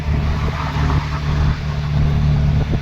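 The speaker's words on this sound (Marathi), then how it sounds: "गाड्या बघा किती फास्ट आहेत," Traffic on a highway near a toll plaza heard from inside a moving auto-rickshaw, a steady engine drone and road roar with faint whooshes of cars going by, no talking.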